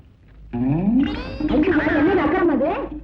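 A cat meowing close by, one long, loud, drawn-out meow that rises and bends in pitch, standing alone over a quiet background.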